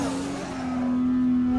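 A car engine in the racing game Assetto Corsa drifts around the Oi Wharf (Ōi Futō) course, giving a steady, sustained droning hum at a constant pitch with no voices over it.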